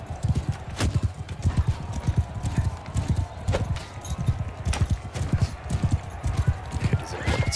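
A galloping horse in the medieval combat game Mount & Blade 2 Bannerlord, with rapid rhythmic hoofbeats pounding continuously and up close, plus a faint neigh and bits of background game noise.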